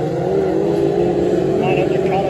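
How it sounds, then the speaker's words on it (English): Race car at Skegness with its throttle stuck open, a steady loud engine roar held without letup under crowd or commentary noise, continuous and close throughout. "Wilson's got the throttle stuck on in 925 by the sounds of it"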